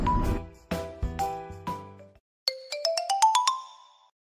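Phone ringtone: a series of bright melodic chime notes, first lower descending tones, then a brief gap and a quick rising run of higher notes, loud and close with no talking.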